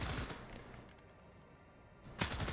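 An AR416 rifle in the shooter game STALKER 2 fires in short bursts: a loud rattling volley at the start, a brief lull with fading echo, then another burst kicking in near the end.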